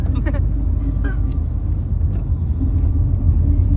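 Road vehicle rumble on the climb up the Wayanad ghat road while overtaking a bus bound for Hyderabad, with a steady, loud engine and road drone that continues throughout and a few brief higher chirps near the start.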